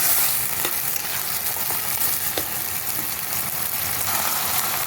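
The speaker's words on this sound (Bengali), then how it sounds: "এখন এই আদা রসুন বেটে রেখেছি, দিয়ে দিলাম। একটু কষিয়ে নিই" Ginger garlic paste frying in a pan while white chicken is being cooked, giving a steady, close, loud sizzle with a few faint stirring scrapes and no talking.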